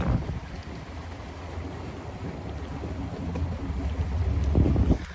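A boat motors across open water near an underwater hotel, a steady low engine rumble mixed with rushing water and wind buffeting the microphone, growing louder toward the end.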